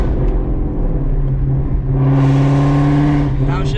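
A Ford Mustang GT350 with H&R springs revs hard under acceleration, the engine note dipping briefly during a clutchless float shift into fourth, then climbing again loud and close from inside the cabin.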